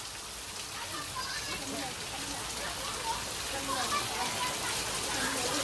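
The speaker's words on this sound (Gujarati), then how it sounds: "વરસાદ પાટણની અંદર વરસાદ ધૂમધામ" Heavy rain pours down at night in Patan during a storm, an even, continuous wash of drops on surfaces that swells slightly, with voices faintly underneath.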